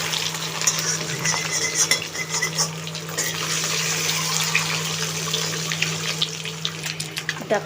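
Eggs fry lightly with turmeric in a pan, a continuous close sizzle accompanied by frequent stirring and clinks of utensils against cookware, with a faint steady hum underneath.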